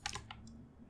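Keys are pressed on a computer keyboard, a few quick close clicks in the opening half, then quiet room tone.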